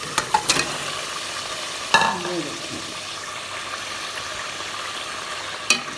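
Washed meat goes into hot oil for a chicken dal shorba, a sizzling hiss broken by a few sharp clatters of a utensil at the start, middle and end.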